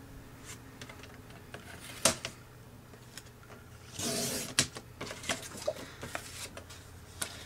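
A standard 8.5 by 11 sheet of paper is cut in half, giving soft scattered snips and taps, a brief louder rustling swish in the middle, and quiet handling noises throughout, close up with no talk.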